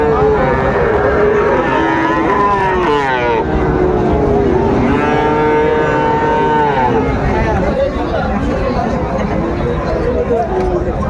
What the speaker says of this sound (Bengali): যেদিকে থাকে সেদিকে গরু আর গরু দেখছিলাম